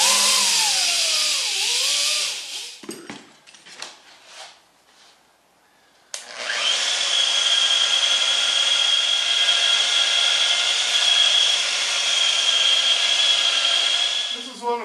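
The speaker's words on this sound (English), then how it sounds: "it's an orbital sander made by Dyna-Braid" A Dynabrade orbital air sander runs with a steady, loud high-pitched whine for most of the clip, after a quieter stretch of softer handling sounds, used on metal finishing work.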